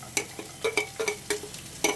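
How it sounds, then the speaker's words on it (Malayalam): Green chillies, onion and curry leaves fry in hot coconut oil in a pan, a steady sizzle broken by several sharp stirring scrapes and clinks, close and fairly loud with no voices. "അരിഞ്ഞു വെച്ചിരിക്കുന്ന പച്ചമുളകും സവാളയും കറിവേപ്പിലയും കൂടെ നമ്മൾ ചൂടായ ഒരു ചട്ടിക്കച്ച എണ്ണ ചൂടായിട്ടിട്ടുണ്ട് വെളിച്ചെണ്ണയാണ് വെളിച്ചെണ്ണയ്ക്കകത്തേക്ക് നമ്മൾ ഇടുവാണ്"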